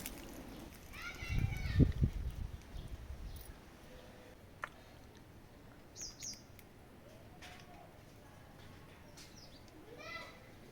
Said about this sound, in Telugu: మీరు విన్నారా ఆ పిట్టల సౌండ్లు ఎలా వస్తున్నాయో